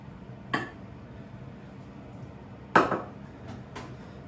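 A utensil knocks and clinks against a bowl while whey is mixed in, with two sharp knocks and a few lighter taps over quiet room tone.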